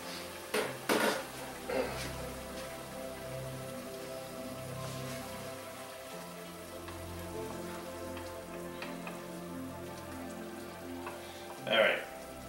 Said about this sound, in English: I'm going to add half a cup of Marcella wine, my favorite thing. And I just want to simmer it, kind of.